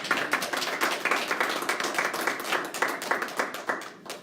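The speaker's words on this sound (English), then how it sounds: "Round of applause for Rachel." A small audience claps after a classroom presentation, making close, distinct and fairly quick hand claps that keep a steady pace and then thin out toward the end.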